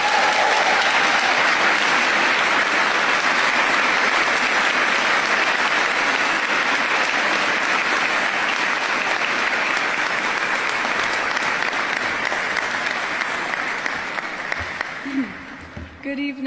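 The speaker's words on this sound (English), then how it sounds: "Round of applause again, please." Sustained, loud audience applause fills a hall at an honorary Doctor of Music degree ceremony during a graduation for the class of 2025, steady throughout and tapering off near the end as a voice begins.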